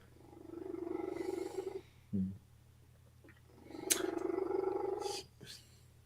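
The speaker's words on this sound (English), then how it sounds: "And now a cat laying behind me, purring his head off." A cat purrs loudly nearby in steady rumbling bursts, pausing briefly in between, with a short thump and a faint click during the gap.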